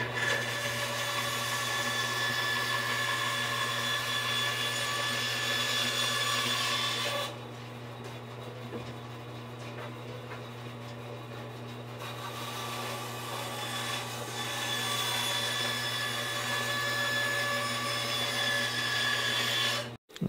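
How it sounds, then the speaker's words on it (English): A bandsaw bucks off wooden frame stock for a Catalina Wherry boat, a constant droning whir with a steady hum, briefly easing in the middle before the cut resumes, with no speech. "So I'm going to go to the bandsaw right now. I'm going to buck that off there"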